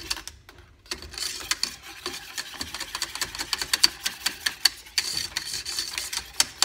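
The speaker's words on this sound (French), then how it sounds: "Je mélange pour qu'elle se dissout au reste de la préparation." Quick, rhythmic clicking and scraping of a utensil against a bowl while stirring gelatin into a vanilla mousse mixture, fairly quiet and close, with no talking.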